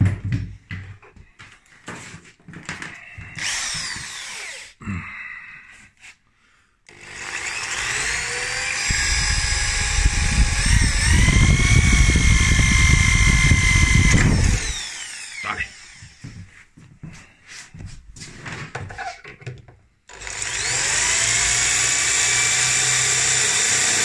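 A power drill bores into wood for a wooden sissy bar, whining in sustained bursts that rise and fall in pitch, with short pauses between runs and a few knocks and bits of handling noise.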